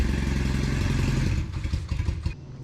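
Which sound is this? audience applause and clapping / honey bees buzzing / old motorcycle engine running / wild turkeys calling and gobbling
old motorcycle engine running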